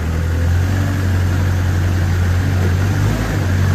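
A 2014 Moffett M55 truck-mounted forklift's engine runs at a steady idle, a loud, continuous low rumble with vibration and no variation throughout, with no voices over it.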